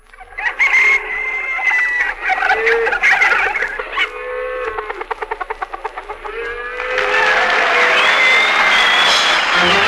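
Barnyard fowl, with chickens clucking and a rooster crowing, sound off in a busy, layered run of calls. Rapid rhythmic cackles build into a dense, loud chorus near the end, with no talking.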